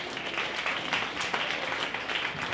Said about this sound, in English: Round of applause for her too.